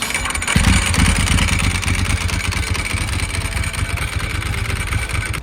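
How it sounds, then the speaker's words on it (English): A Ducati 996 motorcycle from 1999–2002, with its 996 cc L-twin Desmo engine, starts up and settles into a loud, throaty idle that rumbles steadily close by. "996 cubic centimeter L-twin Desmo engine, delivering 112 horsepower with a deep, throaty roar"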